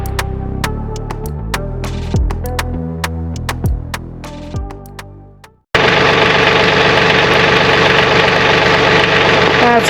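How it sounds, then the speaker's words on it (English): An ATV that has sat unused for a while is cranked in a failed attempt to start it: a rhythmic series of cranking pulses slows and dies out, then a loud, steady broadband engine-like roar takes over. "I'm gonna see if this ATV will start though"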